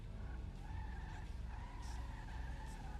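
A Coquette Classic sliding and skidding in GTA V Online, with a steady engine drone and sustained tire squeal running throughout, a couple of brief sharper screeches cutting in near the end, no voices.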